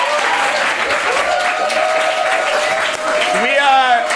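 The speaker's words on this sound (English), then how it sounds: "Give them a round of applause" An audience claps in continuous, dense applause that holds steady throughout, fairly loud and close, with a voice rising briefly near the end.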